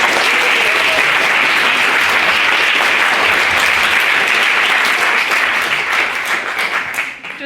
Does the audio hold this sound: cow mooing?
no